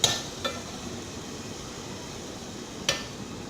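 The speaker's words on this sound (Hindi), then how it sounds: "इस तरह से थोड़ी थोड़ी देर के बाद हमें इसमें चमचा चलाते रहना है।" A spoon stirring minced meat keema in a pot, with a few sharp metallic clinks against the pot over a soft, steady background of cooking noise.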